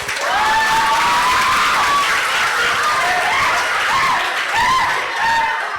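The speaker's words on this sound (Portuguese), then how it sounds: "Uma salva de palmas pro Vitor" School audience at Escola Municipal Francisco Palheta applauding for Vitor at a samba project event: sustained, loud crowd clapping with some cheering throughout, with a few faint voices mixed in.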